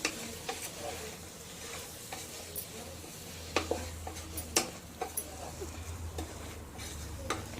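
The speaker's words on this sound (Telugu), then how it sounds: "అలాగే 1 స్పూన్ గరం మసాలా వేసుకొని అంతా ఒకసారి ఇలా కలుపుకోవాలి." A spoon stirs paneer biryani masala mixed with garam masala in a pan, a quiet low sizzle under irregular scraping and clinking strokes that come closer together partway through.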